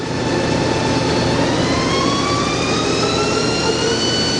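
YCM TC-26 CNC lathe spindle running in low range of its two-speed gearbox, a loud, continuous mechanical hum with whining tones that climb steadily in pitch as the spindle speeds up.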